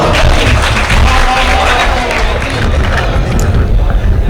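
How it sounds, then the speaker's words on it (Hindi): Loud, sustained applause and cheering from a crowd at a poetry recital in Malegaon, dense and continuous throughout, with a hubbub of voices mixed in. "जोरदार तालियों से"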